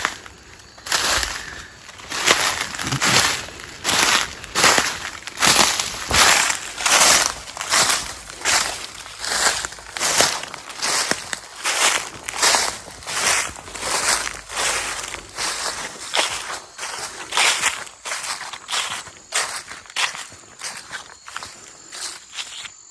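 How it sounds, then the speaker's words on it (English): Footsteps crunching through dry leaves outdoors on a hillside, loud and close, a steady walking rhythm of crisp crackling steps with no talking. "I'm making too much noise with these leaves."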